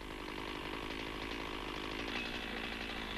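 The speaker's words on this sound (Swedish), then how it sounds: "Sätt an mot kvisten och såga med skjutande kedja." A 1985-era chainsaw limbing a tree, sawing off a branch with the pushing chain: a steady, loud, high-revving engine drone that holds unbroken throughout, with no voices.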